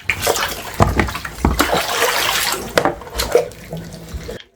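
A watermelon washed under running tap water before juicing with its skin, loud close splashing and streaming water with shifting gurgles as it is turned, ending abruptly.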